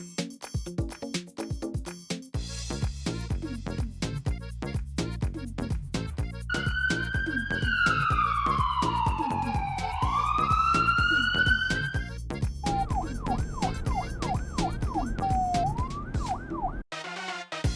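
An ambulance siren in an animated cartoon about cars wails in long sweeping rises and falls, then switches to a fast yelping pattern, loud and continuous over a thumping rhythmic music track.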